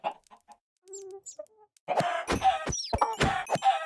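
Minecraft chickens clucking in short, scattered bursts, sparse at first and then busier and denser, with several birds overlapping close by.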